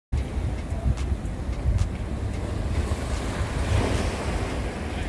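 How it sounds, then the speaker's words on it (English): Ocean waves wash steadily onto a beach in Puerto Rico, a loud, continuous roar of surf mixed with wind buffeting the microphone and no one talking. "This is our favorite beach."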